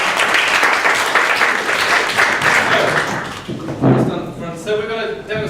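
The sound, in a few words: audience applause for volunteers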